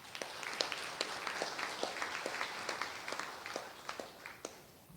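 Sparse clapping rises from a conference audience at a legal conference on criminal justice reform, with distinct individual claps in an uneven rhythm that sound faint and somewhat distant.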